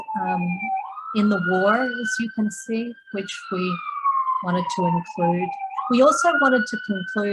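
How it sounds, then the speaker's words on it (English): An emergency vehicle siren wails outside in a slow rising and falling sweep, clearly audible beneath someone talking steadily throughout. "sorry about the background noise, sirens this time."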